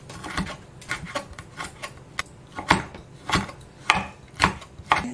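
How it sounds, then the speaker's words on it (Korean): A knife slices abalone thinly on a board, making a steady series of soft, crisp cutting strokes about one every half-second, close and fairly quiet, with no talking. "얇게 썰어 주겠습니다."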